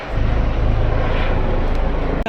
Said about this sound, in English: Helicopters are so loud.